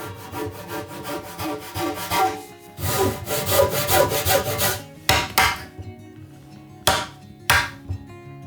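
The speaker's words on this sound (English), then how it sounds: "cut a new dado on the opposite side to install" A 52-year veteran Japanese carpenter saws a dado into a wooden board for a household altar room, with bursts of steady rasping strokes, a few pauses, then two short sharp cuts near the end.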